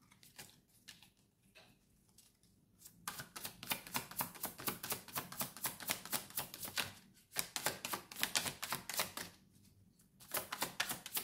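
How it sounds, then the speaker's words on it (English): Tarot cards are shuffled in rapid, dense riffling bursts close to the microphone, with a quieter stretch at the start and brief pauses between rounds. "Let's just shuffle up a few of them."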